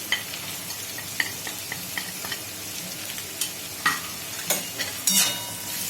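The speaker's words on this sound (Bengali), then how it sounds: "এবার একটু নাড়তে হবে" A spoon stirs salt, turmeric and dry chilli powder through hot oil in a pan, making a continuous sizzle broken by repeated scrapes and clacks of the utensil, growing busier and louder toward the end.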